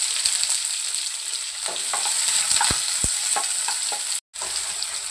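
Onions sizzling and frying in hot oil with mustard seeds, a steady close crackle with a few sharper pops and stirring clinks, briefly cutting out near the end.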